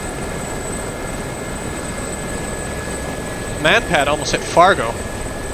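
Mi-24 and Gazelle helicopters fly in a DCS combat simulation, making a steady, droning rotor and engine rumble throughout, with a short burst of radio talk near the end.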